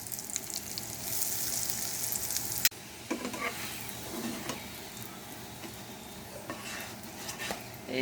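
A paratha fries in plenty of leftover egg-frying oil on a tawa, with a soft hissing sizzle, a sharp knock partway through, then quieter frying with light scraping and pan clinks.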